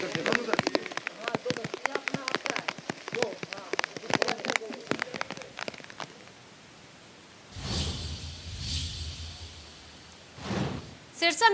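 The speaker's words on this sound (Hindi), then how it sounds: "सिरसा में लगातार हो रही मूसलाधार बारिश से आम लोगों को जहां गर्मी से राहत मिली" Heavy torrential downpour in Sirsa, first a dense crackling patter of rain mixed with activity for several seconds, then after a quiet stretch broad rushing washes of rain noise swelling and fading.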